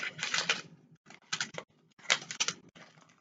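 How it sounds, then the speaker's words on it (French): Noisy paper being handled and cut with scissors, sounding as bursts of crisp rustling and crackling in close, quick clusters separated by short pauses. "le papier, ça fait du boucan."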